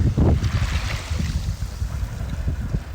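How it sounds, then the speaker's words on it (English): Ocean waves wash over shells on a beach, a surge of rushing water followed by a continuous, fairly loud hiss and churn, with wind noise on the microphone and no talking. "it's a much lovelier sound when the waves hit them"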